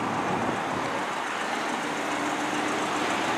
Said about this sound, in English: See, it's got the dual exhaust. It has a really good sound to it as well.